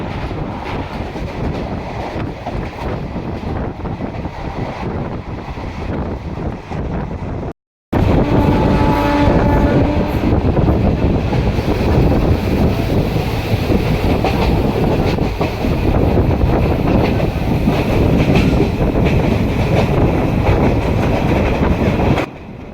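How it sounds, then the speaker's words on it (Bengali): Aranyak Superfast Express crossing the Dwarakeswar river near Bankura, a loud continuous rumble and clatter of wheels on the bridge heard close from aboard, with a brief dropout early on and wind buffeting. "এখন আমাদের ট্রেন পার হচ্ছে দ্বারকেশ্বর নদী"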